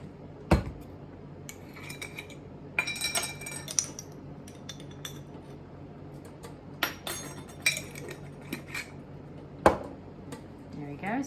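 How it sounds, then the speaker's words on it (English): Metal spoon clinking against a pot while salt and thyme are stirred into a lentil stew, with several sharp near clinks and scrapes spaced across the stretch over a low kitchen background. "stir that in"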